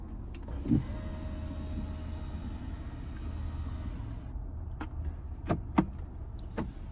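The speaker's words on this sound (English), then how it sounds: "And then you also have the power sliding center console cubby space here as well." Power sliding center console cubby in a 2026 Ford Expedition Max King Ranch, a steady low electric motor whir lasting several seconds inside the quiet cabin, followed by a few soft clicks and knocks as it stops.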